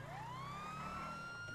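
A police car siren wails in GTA 5 Online, a single rising electronic tone that climbs and holds, heard faintly over a low engine rumble with no talking.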